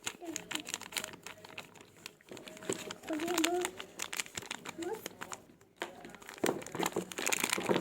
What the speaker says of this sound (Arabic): فضيت كده محتويات الكيس كلها.